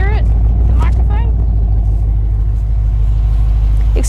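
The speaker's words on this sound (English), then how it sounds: "you see the car flash, and that's where you'll hear our nice Harrop exhaust" Holden Commodore VF SS V Redline sedan with a 6.0-litre V8 and Harrop exhaust, idling after a remote start: a loud, steady deep rumble close by, with someone talking over it at the start and end.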